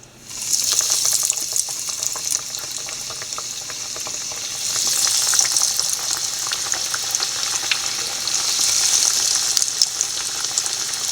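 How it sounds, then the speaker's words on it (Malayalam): Breaded beef cutlets fry in hot oil with a loud, steady sizzle and crackle that swells at moments and continues throughout. "എണ്ണ നല്ലപോലെ ചൂടായിട്ടുണ്ട് ഓരോ കട്ലറ്റും ഇത് ഇട്ട് കൊടുക്കാം"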